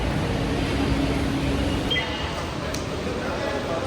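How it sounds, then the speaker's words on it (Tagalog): Steady low rumble and hum inside a moving MRT train carriage, loud and continuous with a faint high whine partway through, no clear talk. "Sakay na kami ng MRT guys."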